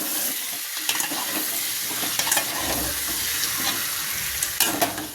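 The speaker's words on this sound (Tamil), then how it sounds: "வெங்காயம் தக்காளியும் போட்டாச்சு. நல்லா வதங்கட்டும்." Onions and tomatoes sauté in a pan with whole spices for tomato rice, giving a steady close sizzle with intermittent scrapes and stirring clicks from a spoon, no voices.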